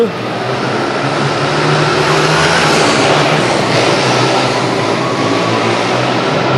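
Speedway motorcycles racing from the start gate in 1970s US speedway with Billy Gray leading, a loud sustained roar of engines holding steady throughout with a commentator speaking faintly beneath.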